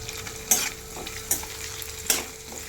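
Potatoes with salt being stirred and sautéed in a pan for sabudana khichdi, a soft steady sizzle broken by three sharp spatula scrapes against the pan, close and without talk.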